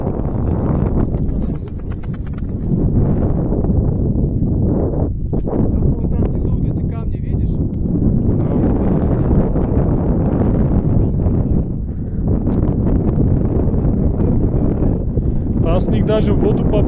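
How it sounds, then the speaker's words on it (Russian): Cold wind buffets the microphone beside mountain lakes, a loud, continuous low rumble that dips briefly a couple of times, with someone talking at moments. "Ну, ветер холодный."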